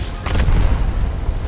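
A grenade explodes in the Gears of War video game, a loud booming blast about a quarter second in that rolls into a sustained rumble, with a voice briefly over the din.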